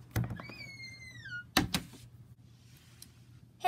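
A door opens in a video game with a solid thunk and a short sliding clatter, heard twice about a second apart amid faint ambient hum, following a brief chirping game sound.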